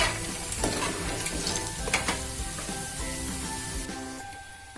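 Harde (myrobalan) herbs frying in hot oil produce a continuous close crackling sizzle with a few sharper pops and stirring sounds, steady and alone throughout.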